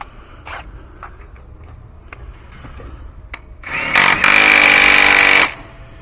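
Power tool, likely an impact driver, tightening a bolt on a Honda Ridgeline engine mount: a loud burst of about two seconds after some light clicks and handling noises.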